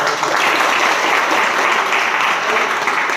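Loud, steady applause from a room of hostel students at a talk on education, thick and unbroken throughout, with no speech above it.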